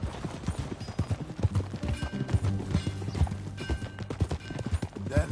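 Horse hooves clip-clopping at a steady riding pace in Red Dead Redemption 2, a continuous rhythmic patter of close hoofbeats with occasional low thuds and faint background tones.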